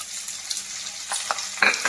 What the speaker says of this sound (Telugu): ఇప్పుడు మనం దీనిలో ఉల్లిపాయ ముక్కలు వేసేద్దాం.